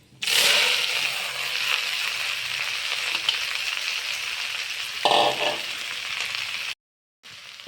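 Taro frying in a pan with cumin seeds and dried red chillies, a loud continuous sizzle starting abruptly and holding steady, with a brief stirring scrape partway through before cutting off to silence near the end.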